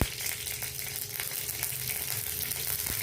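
Mustard seeds are tempered in hot oil for an arai keerai kootu, giving a continuous close sizzle and crackle with faint stirring, steady throughout.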